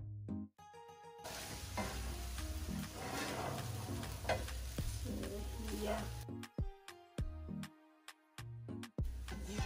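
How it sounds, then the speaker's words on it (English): Rice is stirred into frying chicken wings, giving a steady close sizzle with scraping stirs, then it breaks into short bursts near the end, with tonal music playing throughout. "So we'll just add our rice."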